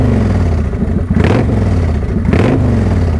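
A motorcycle engine idles in neutral with a steady low throb, then is revved twice, each rev a sharp rising and falling surge; loud and close.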